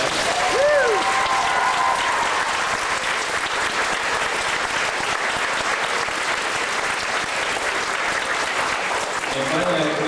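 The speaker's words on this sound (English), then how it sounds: "Let's give her a round of applause." A school gathering claps steadily in a round of applause that stays loud and even throughout, with brief voices audible near the start and end.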